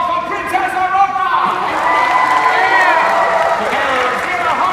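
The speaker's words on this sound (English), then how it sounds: "Lords and ladies, a royal round of applause for Princess Aurora!" A crowd at a Disneyland show cheers and claps loudly, with children shouting and excited voices rising over the steady applause.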